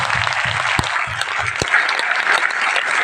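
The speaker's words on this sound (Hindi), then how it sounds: "इसके लिए मैं आप सबके लिए ताली बजाऊंगा" Loud, close audience applause fills a corporate gathering, brisk continuous clapping with a few sharper claps standing out.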